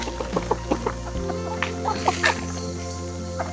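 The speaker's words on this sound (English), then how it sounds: "You have one more chicken up here." Chickens clucking at a homestead in the Appalachian Mountains, a few short, close clucks scattered over a steady low background hum, with faint sounds of people nearby.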